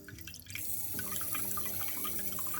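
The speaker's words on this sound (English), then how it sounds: "This baby has a built-in bidet with warm water." HOROW bidet toilet spraying warm water: a soft, quiet hiss of a fine water jet with faint dripping and splashing in a bathroom, no talk.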